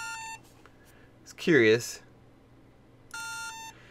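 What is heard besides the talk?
Steam Controller beeping when identified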